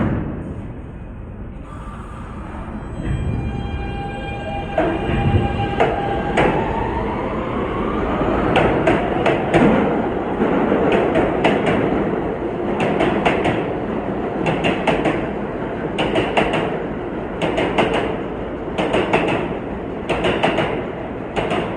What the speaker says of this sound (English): here's a Coney Island bound F train of R160s.